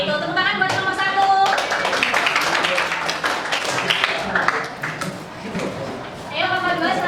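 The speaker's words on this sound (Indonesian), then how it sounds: "itu tepuk tangan buat nomor 1" Scattered clapping from a training group of prospective school counseling facilitators, a round of applause for the first participant, mixed with talk and murmuring voices throughout.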